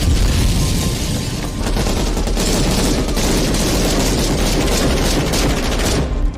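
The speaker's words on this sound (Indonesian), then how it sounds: "Tiba-tiba sebuah ledakan terjadi" Dense battle gunfire and blasts from a war film, a loud continuous barrage of shots and booms with no pauses, cutting off abruptly near the end.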